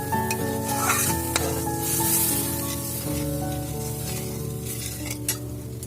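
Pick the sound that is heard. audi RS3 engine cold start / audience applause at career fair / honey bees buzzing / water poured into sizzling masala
water poured into sizzling masala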